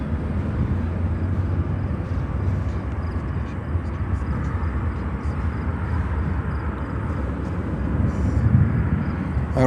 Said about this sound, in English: British Airways 777-200 taxiing over.